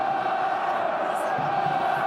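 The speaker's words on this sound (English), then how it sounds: "Just listen to the sports ground crowd. They're passionate in this part of the world as Marmion tries to cut a line" Passionate rugby crowd roaring throughout a stadium during a Connacht versus Ospreys match near half-time, a steady dense wall of cheering and shouting at constant loudness.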